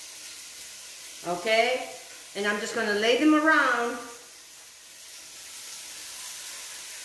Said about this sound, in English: I want to make sure that I get a sizzle.